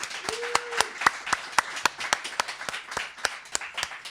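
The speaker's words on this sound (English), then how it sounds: "Can we have another round of applause for all of these amazing poets?" Audience at a student poetry reading clapping in sharp, distinct claps at a steady pace, a small crowd rather than a roar, with a brief voice heard early on.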